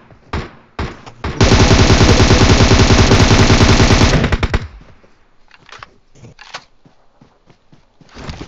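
An M762 assault rifle fires in PUBG Mobile, a loud close burst of rapid automatic shots lasting nearly three seconds, followed by scattered single cracks and light clicks, with no talk over it.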